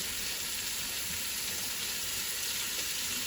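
Garlic and onions frying together in a pan for paprikash, a steady close hiss and sizzle running without a break, with faint stirring underneath and no voices.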